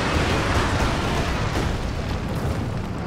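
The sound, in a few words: Werfer rocket artillery strike in Company of Heroes 2 video game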